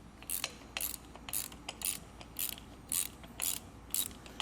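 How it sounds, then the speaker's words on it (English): A ratchet fitted with a Torx bit loosens a bolt on the side of a Swagman bike rack receiver insert, giving about ten quick clicking bursts in a steady rhythm, close and fairly quiet, with no talk. "So I got a ratchet and a Torx bit. Just going to loosen it here on the side."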